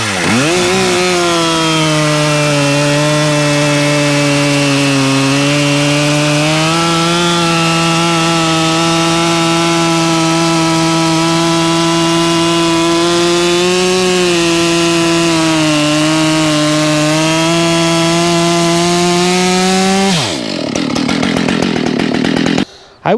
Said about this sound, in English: we're going to see how this feels compared to my 372